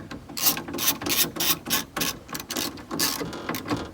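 A ratchet tightens a bolt on the rear window regulator of a 2008 Chevrolet HHR, giving a rapid series of close, crisp clicks in quick back-and-forth strokes.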